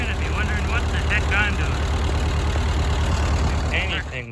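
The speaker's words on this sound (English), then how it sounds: "This tractor is able to get it with all its possibly 17 horsepower" A small Ford tractor engine of around 17 horsepower runs steadily and loudly up close, with a constant low rumbling idle. Brief bursts of speech and other sounds ride over the engine now and then.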